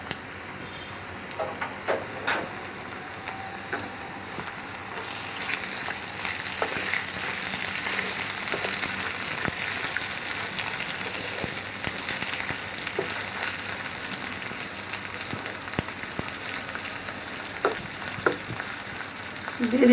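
Ginger-garlic paste fries in a pan for a surma fish curry, a soft continuous sizzle that swells slightly over time, dotted with occasional light clicks of stirring, fairly quiet and with no voices.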